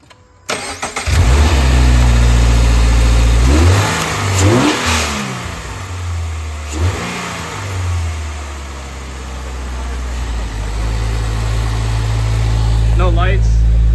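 A car engine cranks and catches close by, revs up a few times, then settles into a steady, loud idle, with people talking nearby.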